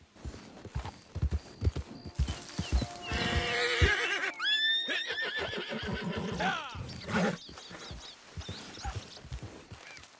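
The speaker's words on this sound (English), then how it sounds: "Here's my horse." A horse in Red Dead Redemption 2 Online snorts and gives a loud, shrill whinny amid rhythmic clip-clopping hooves, close by, with a short break in the hoofbeats around the neigh.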